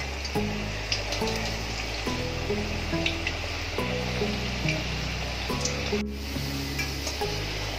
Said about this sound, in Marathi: आणि फक्त अर्धा मिनिटं ते तळायचे